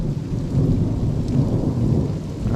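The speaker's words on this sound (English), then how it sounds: "That's a severe thunderstorm." Low, rolling thunder from a severe thunderstorm rumbles heavily with rain hissing underneath, a sustained deep growl with no voices.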